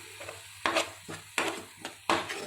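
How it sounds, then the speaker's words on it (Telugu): Chilli, ginger-garlic paste and turmeric being fried in a pan: a soft sizzle under four or five sharp, rhythmic stirring scrapes and knocks, close by and without speech. "ఒక స్పూన్ పసుపు వేసి మనం బాగా ఫ్రై చేసుకుందాం."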